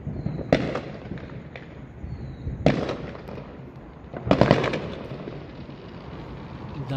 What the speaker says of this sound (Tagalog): Tumama yung isang fireworks.